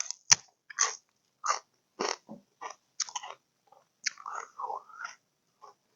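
Fresh garden-grown celery is bitten with a sharp snap, then chewed close to the mic in crisp, wet crunches that come in short irregular bursts with brief pauses.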